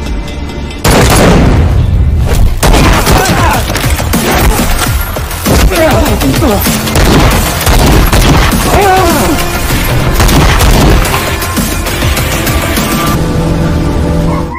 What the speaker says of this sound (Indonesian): tiba-tiba saja baku tembak telah terjadi